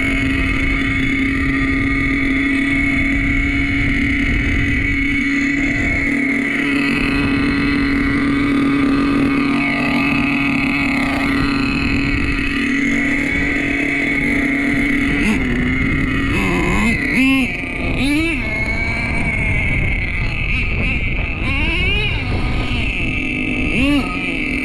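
An OS .18TM nitro engine in a Traxxas T-Maxx RC truck with dual pipes, buzzing loud and steady at high revs close by, its pitch wavering and sputtering toward the end.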